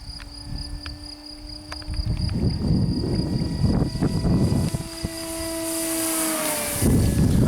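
A small radio-controlled EPO model plane's engine whines in a steady buzz, its pitch sliding up and down as it passes overhead against strong wind noise.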